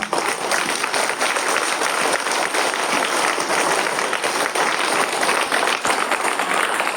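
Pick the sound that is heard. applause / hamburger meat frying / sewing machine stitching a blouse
applause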